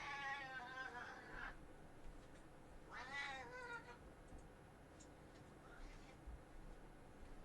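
A kitten meows in distress, two or three drawn-out, wavering cries spaced a few seconds apart, faint and fairly close over a quiet room background.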